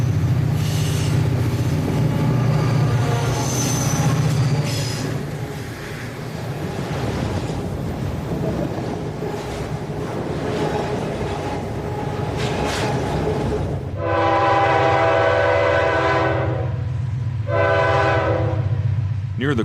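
A southbound automobile train rolls past loud and close with a steady rumble and squealing wheels, then the horn sounds in two long blasts near the end.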